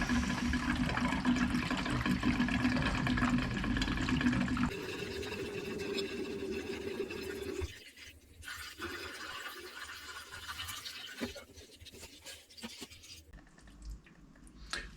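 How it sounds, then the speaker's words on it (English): Old brown coolant gushes from a car radiator after the hose is pulled off, a steady close splashing pour of liquid that weakens and becomes patchy trickling before fading out. "Just take the hose clip off the pipe and pull it off the radiator."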